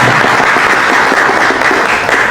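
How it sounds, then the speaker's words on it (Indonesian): Audience applause at a live panel discussion event: dense, steady clapping from a crowd that stays loud and even for the whole stretch, with no pauses or talking on top. "Boleh tepuk tangannya?"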